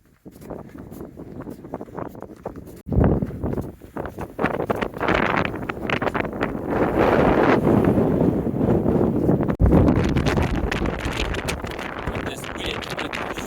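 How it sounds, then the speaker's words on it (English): Strong wind gusting across an exposed mountain summit ridge at Leppy Peak, a steady loud roar buffeting the microphone throughout with a sharp burst of gusts a few seconds in. "pretty breezy down here"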